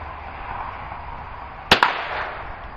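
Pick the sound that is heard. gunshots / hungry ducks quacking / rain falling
gunshots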